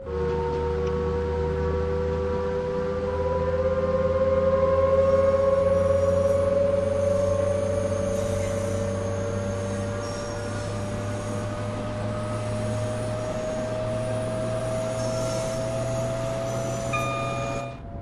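Inside a Class 390 Pendolino at full throttle in Train Sim World 5, a steady electric traction whine climbs slowly in pitch over a constant low rumble, loud and continuous with no fan or air-conditioning noise.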